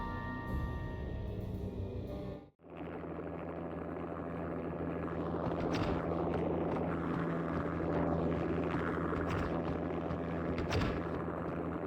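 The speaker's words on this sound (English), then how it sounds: "An armed helicopter just landed on the manor grounds." An armed helicopter sets down on manor grounds in Max Payne, its dense rotor and engine roar filling the scene steadily after a brief cut, with a constant mid-level drone and no voices.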